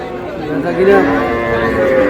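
A young bull calf lets out a short, low moo amid the chatter of a busy cattle market crowd, close by and fairly loud.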